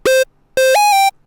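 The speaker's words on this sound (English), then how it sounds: "So let's put some distortion on it." Two bright, buzzy synth notes from a square-wave patch with distortion in Serum, for a melodic drum and bass track: a short tone, a pause, then a longer tone that slides up in pitch, loud and close with no talking.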